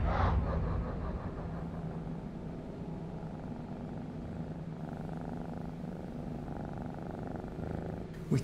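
A cat purrs close up in a steady, continuous low rumble that holds for several seconds before a brief rustle at the end, with no voices.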